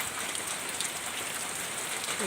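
Cool rain falls steadily in a place speakers refer to as Khao Yai, a dense, even hiss of drops hitting surfaces that stays constant and fairly close throughout, with no talking.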